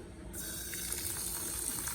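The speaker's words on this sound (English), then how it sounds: "I'm gonna go ahead and just add a little bit of water to it. Use my pot filler." A tap switches on and water pours steadily into a pot, a continuous rushing splash that holds an even level.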